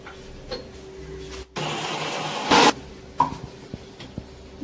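A kitchen mixer grinder briefly blitzing black pepper, garlic and salt: a short, loud whirring burst of about a second that surges louder at its end, surrounded by quieter handling clatter.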